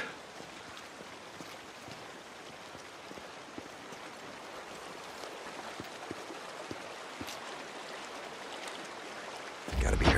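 Steady broadband wash of creek water running in the open-world game Days Gone, a continuous rushing flow with small splashy ticks, moderately quiet, ending in a brief louder burst.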